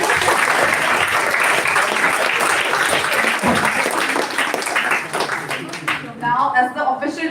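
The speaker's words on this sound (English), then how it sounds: "A huge round of applause for them once again." A debate-competition audience applauds loudly and steadily for several seconds before the clapping thins out. A voice then speaks near the end.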